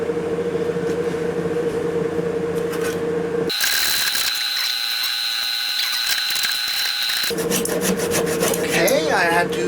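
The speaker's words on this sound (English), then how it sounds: "I had to hacksaw several inches in front of it to get over the nail" A hacksaw rasps through wooden trapdoor framing in a crawl space, working past an embedded nail; steady back-and-forth rubbing strokes run close and loud throughout, with a harsher, brighter stretch of cutting in the middle.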